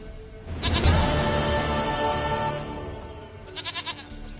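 A goat in the video game The Witcher III: Wild Hunt bleats in a long wavering cry, followed by a shorter stuttering bleat, close and clear against a quiet game background.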